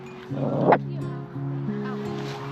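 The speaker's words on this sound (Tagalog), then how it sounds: "Sungit ng tuta namin." A puppy at a private campground gives a yelping bark and then thin, drawn-out whimpers, close by, over a steady low engine-like hum.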